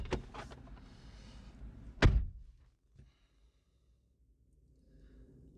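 A car door on an eDrive car at a charging station opens with a sharp click and a heavier thunk, followed by a faint softer knock and quiet background.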